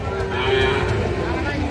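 A young bull calf, about four to six months old, moos once in a long, close, loud call at a cattle market, with crowd noise underneath.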